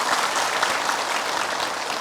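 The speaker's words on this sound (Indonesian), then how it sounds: "tepuk tangan untuk kita semua" An audience at an Islamic religious gathering applauds, a dense, steady burst of many hands clapping together, fairly loud and close.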